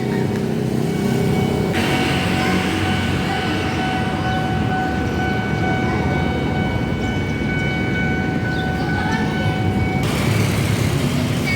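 A train rumbles past nearby on the railway line between Kota and Tanjung Priok in Jakarta, a heavy continuous roar with a sustained whistling tone that fades after several seconds.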